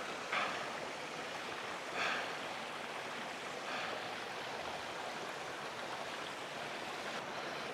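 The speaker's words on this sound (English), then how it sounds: "Something quite soothing, isn't it, about running water?" A stream in the Peak District runs steadily, a soft continuous wash of flowing water with no voices, staying even and fairly faint throughout.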